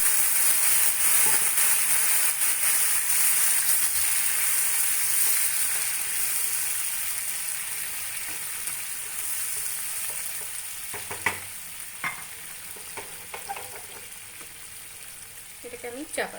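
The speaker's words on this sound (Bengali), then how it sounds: "গ্যাসটা একদমই কমিয়ে তারপরে এবার আমি জল ঢেলে দেবো" Water hits frying lentils for dal over a low gas flame, starting as a loud rushing sizzle that gradually softens and settles into quieter bubbling with scattered clicks of stirring near the end.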